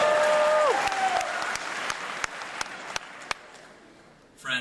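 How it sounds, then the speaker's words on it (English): Graduation audience applause, a broad spread of clapping that starts full and gradually thins out, with a few sharp individual claps standing out near the end. "Feel free to applaud after pretty much everything I say."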